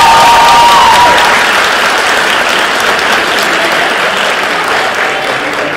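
Loud, dense applause for teachers at a nursing assistant recognition ceremony, a continuous roar of many hands that holds steady and only slightly fades toward the end.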